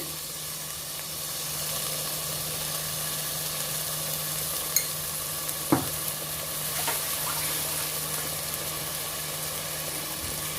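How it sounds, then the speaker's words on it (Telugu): A spoon stirs yogurt into tomato pulao masala in a pan: a steady, close sizzle and soft scraping that runs evenly throughout, with a couple of brief knocks against the pan near the middle. "ఇప్పుడు దీన్నంతా కలిపేసి ఈ టైంలోనే 1 కప్పు పెరుగు వేసుకోవాలి"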